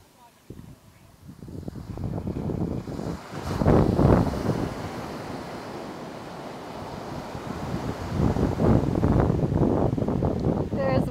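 Ocean surf and wind at a beach in Maui, broadband rushing swells building and fading, with gusty wind buffeting the microphone; a voice is faintly present in places.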